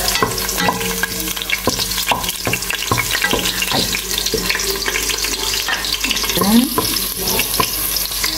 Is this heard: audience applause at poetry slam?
no